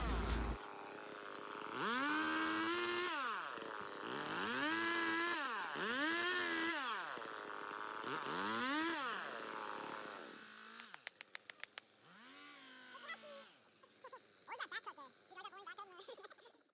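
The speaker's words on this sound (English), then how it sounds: "the seniors get to carve a pumpkin with a chainsaw" Chainsaw carving a pumpkin at a logging sports competition, the engine revving up and down in repeated loud surges, then sputtering and idling with rough crackles near the end.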